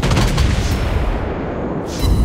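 Heavy naval gunfire from the Tier 6 Soviet cruiser Admiral Makarov in World of Warships Blitz: a loud, dense booming salvo with rumbling low-end roar that fills the clip and flares again near the end.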